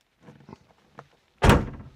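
A Jaguar XK8 car door opens with soft handle and latch clicks, then shuts with one solid, loud, close thunk that rings out briefly.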